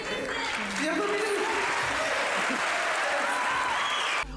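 Sustained applause from a theatre audience at an award ceremony, dense clapping that fills the hall steadily for several seconds before stopping abruptly.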